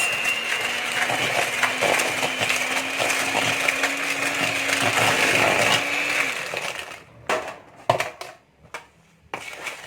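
Banana cake batter stirred by hand in a bowl, a steady scraping and sloshing that runs for about six seconds before breaking into a few sparse knocks and taps.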